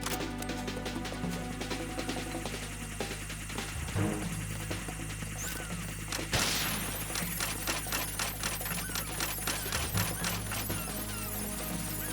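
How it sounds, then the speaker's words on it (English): Chaff grenades detonating in Metal Gear Solid 2, a dense crackling, rattling electronic burst over a steady droning hum, with a sharp louder pop midway and continued rapid ticking afterward. "I like the sound the chaff grenades make."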